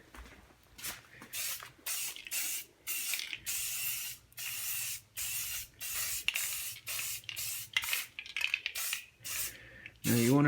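A spray can mists paint onto a Civic car wheel in a rapid series of short, close hissing bursts with brief gaps, ending in a louder clatter.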